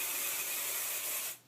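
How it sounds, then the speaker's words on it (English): A single continuous hiss of an aerosol spray, close and fairly loud, lasting just over a second before cutting off. "Take the hairspray, I'm almost out."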